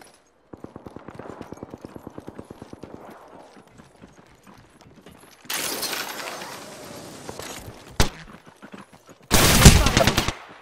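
Gunfire in the shooter game Apex Legends: a rapid string of clicking shots gives way to louder sustained bursts, a sharp single crack and a final heavy blast, with a voice speaking faintly in between.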